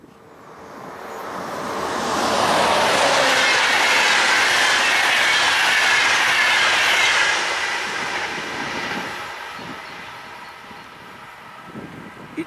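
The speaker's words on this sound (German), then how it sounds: "ICE Richtung Augsburg." An ICE high-speed train heading toward Augsburg rushes past, a broad roar swelling over the first few seconds, holding loud, then fading away as it recedes, with faint rail clatter at the end.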